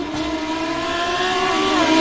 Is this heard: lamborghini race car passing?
yes